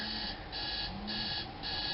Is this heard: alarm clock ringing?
yes